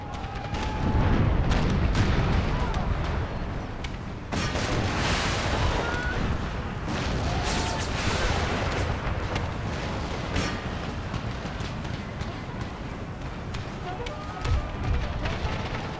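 Cannon artillery fire in a Civil War Gettysburg video game, with repeated deep booms and sharp blasts over a dense, rumbling battle din, some shots near and loud and others more distant.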